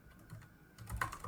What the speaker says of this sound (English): just me sitting here typing all this text